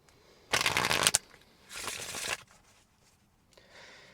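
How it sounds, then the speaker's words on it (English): Tarot cards are shuffled in two quick riffling bursts, crisp and close, with a short pause between them and soft handling noise afterward. "Let's pull some more cards."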